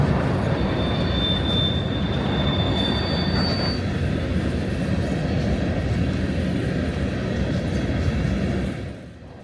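A model train runs on a realistic layout of the BNSF Front Range subdivision, where the track runs down the middle of Mason Street. Loud, steady rolling rumble with high wheel squeals early on, then fading at the very end.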